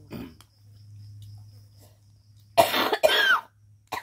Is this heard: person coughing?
yes